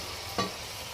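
Cauliflower sizzles in hot oil with deep-fried onions and fenugreek seeds, a constant close frying hiss with one brief scrape of stirring partway through.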